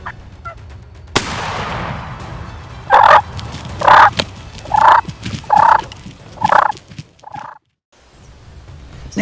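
Wild turkeys gobble outdoors in a hunting setting, a run of about six loud, evenly spaced calls after a sharp bang, then a brief quiet pause.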